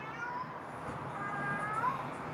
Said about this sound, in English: So the cat, okay, he's pissed off. Can you hear my cat? He's pissed.